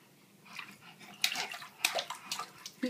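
A small child splashes water in a bathtub with hands and feet, a series of quick, bright sloshes and slaps that grow busier toward the end, close by and fairly soft, with no talking.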